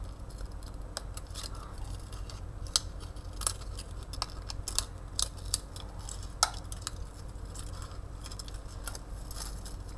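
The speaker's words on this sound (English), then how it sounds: "I'm going to go ahead and cut out like kind of a nice circle shape out of this." Sharp, irregular snips of scissors cutting a circle out of a plastic water bottle, crisp clicks and crinkles close up over a faint background hum, no voices.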